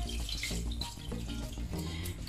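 Water pours steadily into a cooking pot for a vegetable menestra, a close, continuous splashing gush that lasts the whole stretch without pause.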